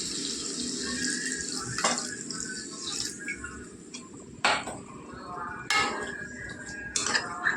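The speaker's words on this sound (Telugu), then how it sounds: "ఇప్పుడైతే మనం నీళ్ళు వేసుకుందామండి." Water is poured into fried chicken curry masala in a pot, a steady splashing rush broken by a few sharp clinks of a utensil against the vessel.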